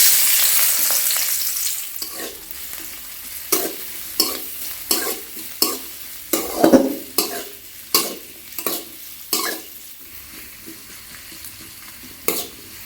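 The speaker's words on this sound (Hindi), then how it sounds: "एबे कटा पियाज पकेइबा।" Chopped onion frying in mustard oil in a kadai on a gas stove, hot sizzle easing off as a spoon stirs in a dozen sharp, regular scrapes and clacks against the metal.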